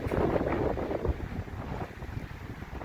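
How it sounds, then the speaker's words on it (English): Wind gusts across an open grassy spot, buffeting the microphone with a loud, rough rushing roar that swells at first and then settles into a steadier breathy hiss. "It certainly is windier than last week. See the grass moving in the wind?"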